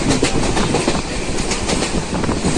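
A train out of Sealdah rolling along the rails, with a steady loud rumble and rhythmic clickety-clack of the wheels that continues without a break throughout.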